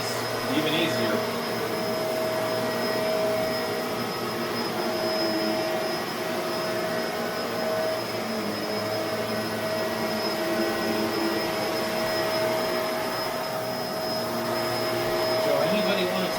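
A Bissell MultiClean Allergen Lift Off Pet vacuum runs at maximum suction. Its loud, continuous close-up roar carries a steady high whine throughout.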